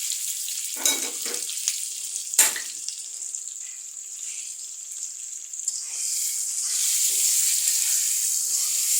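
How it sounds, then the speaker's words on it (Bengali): Onions frying in a pan with salt and green chilies for a papaya and egg dish, with a steady hiss and a few early stirring scrapes, the sizzle growing louder toward the end, no talking. "পেঁয়াজটা ভেজে নেই কাঁচা বন্ধটা দূর হওয়া পর্যন্ত ভাজতে হবে"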